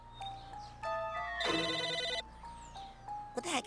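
In the video game Psychonauts, a landline telephone rings with bright electronic trilling bursts that repeat at a steady pace, fairly loud and close, with no voice over it.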